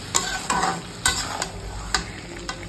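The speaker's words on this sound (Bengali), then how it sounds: "এখানে ডিমের মশলা কষানো চলছে।" Egg masala sautéing in a pan, with a spatula scraping and knocking against the metal about five times at uneven intervals over a soft frying sizzle, close up and without speech.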